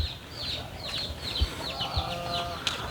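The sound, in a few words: ducks on a farm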